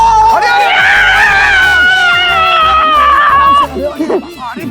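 A group of people shouting and screaming together at a school reunion, a loud, sustained excited outburst of voices that then breaks off into scattered calls and chatter.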